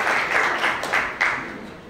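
An audience at a Children's Day event applauds children, a short burst of fairly dense clapping with a few sharper claps standing out.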